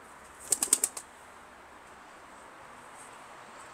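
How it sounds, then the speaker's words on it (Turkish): A bird released from a coop beats its wings in a quick burst of about five sharp flaps, then the flutter fades into quiet outdoor ambience. "Buraya tam alışkın olmayan bir kuşu dışarı saldı."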